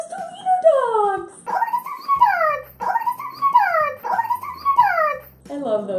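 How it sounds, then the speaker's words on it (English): Two dachshunds whimper and yip close by, a run of high, falling whines in repeated bursts, each rising then sliding down, loud and with no talk over them. "Oh, look at those 2 wiener dogs."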